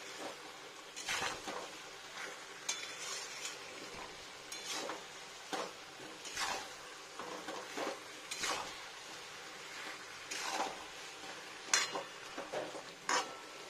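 Chicken is stir-fried in a large karahi over high heat: a quiet background sizzle with repeated scraping strokes of a spatula at an uneven rhythm.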